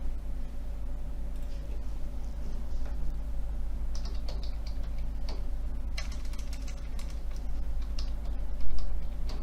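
A computer keyboard being typed on to enter a bank user ID and password, steady close clicking over a constant background hum.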